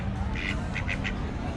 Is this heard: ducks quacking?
yes